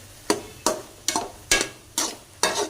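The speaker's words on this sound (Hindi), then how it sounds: "मलाई डालने के बाद अच्छे से मिक्स कर लेंगे" A spoon stirs cream (malai) into carrot halwa, making six sharp, evenly spaced scraping strokes against the pan, each one short and close by, with near silence between them.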